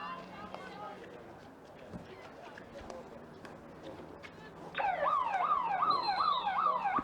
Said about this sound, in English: that siren signals the end of the first quarter